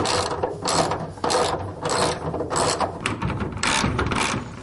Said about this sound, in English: this job can be made easier by popping in a few rivets